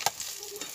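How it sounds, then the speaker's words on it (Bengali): Pieces of katla fish fry in hot oil in a pan, a soft continuous sizzle broken by a couple of quick clinks from stirring, heard close with no talk. "আর বাকি মাছগুলো এভাবে ভেজে নেবো।"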